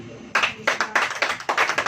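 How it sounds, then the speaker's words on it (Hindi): A church congregation claps together in a quick rhythmic pattern, sharp loud bursts of hands grouped in short runs. "ताली बजाइए।"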